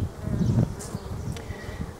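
Honey bees swarm around a hive entrance fitted with a pollen trap, giving a steady close buzz with louder passes as individual bees fly near.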